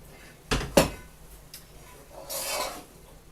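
Onions tipped into a slow cooker pan while preparing a vegan potato and chickpea curry, two sharp clinks followed by a soft rasping slide, close and quiet.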